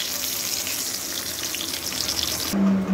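Pointed gourd (parwal) sizzles steadily in hot oil in a wok. The frying is close and continuous, and near the end it gives way to a brief change in the sound.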